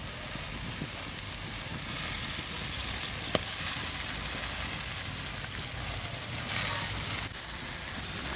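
Khoira fish fry in hot oil in a pan with winter vegetables, producing a steady, dense sizzle that holds at an even level throughout, with a faint clink or two.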